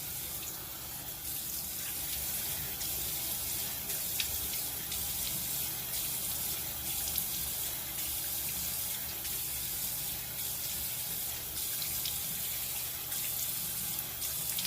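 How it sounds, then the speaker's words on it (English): Tap water runs steadily into a bathroom sink while someone rinses their face with cool water during a nightly routine, a continuous close splashing flow with no talking. "I rinse with cool water."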